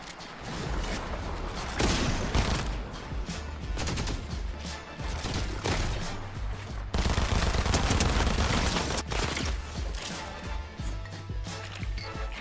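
Rapid, continuous bursts from micro SMGs in Fortnite, loud and near, with dense rattling fire running almost the whole time and only brief pauses between strings of shots.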